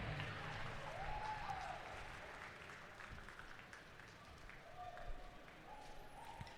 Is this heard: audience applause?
yes